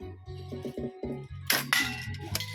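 A short slingshot fires a steel ball, giving a couple of sharp snapping cracks close together over steady background music.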